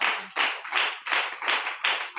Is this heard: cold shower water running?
no